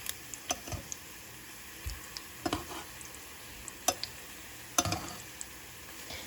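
Tortilla chips frying in very hot oil, a soft steady sizzle broken by scattered clicks and taps as the pieces are moved and flipped, fairly quiet and without talk.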